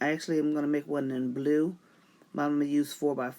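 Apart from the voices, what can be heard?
No everyday noise stands out behind the speech.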